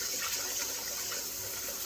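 Water gushes from a tap over small rice grains in a strainer, a steady close rushing hiss that stays loud and even throughout, alone with no talk.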